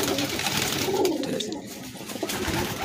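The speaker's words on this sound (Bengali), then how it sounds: "এই 2 নম্বর মাদি পায়রা, 2 নম্বর মাদি পায়রা এটা আছে" Pigeons coo close by at a West Bengal pigeon racing tournament, with soft repeated throaty calls over a busy outdoor background.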